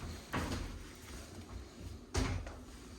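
Broken cupboard door in a dusty rental unit after a tenant moved out, two distinct wooden knocks and scrapes as it is opened and closed, heard close up in a quiet room.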